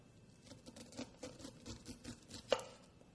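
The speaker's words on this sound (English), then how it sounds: "Just cut off a little section close to the cob" A sharp knife slicing fresh corn kernels off the cob in short strokes, soft scraping cuts repeating at a steady pace, close and quiet, ending with a slightly sharper knock.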